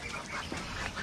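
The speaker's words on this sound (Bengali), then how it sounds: "আর এই যে দেখতে পাচ্ছেন এখানে কয়েকটা হাঁস রাখা আছে।" Several ducks kept inside a house on a rooftop poultry farm quack in short, scattered calls, close by and moderately faint, with no talking.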